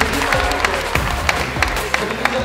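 Applause and cheering rise for the winner at an FDJ Masters League esports tournament, crowd noise and clapping blended under booming music hits with regular thumping beats.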